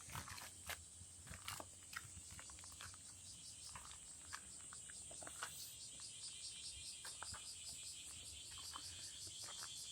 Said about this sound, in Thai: ถ้าได้ยินเสียงจักจั่นร้อง